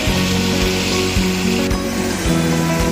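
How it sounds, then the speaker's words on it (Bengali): Potato pieces crackle and sizzle in hot oil in a pan, a close, continuous frying hiss with a few soft knocks from stirring. "সুন্দর করে লাল লাল করে আলুগুলো ভেজে নিতে হবে।"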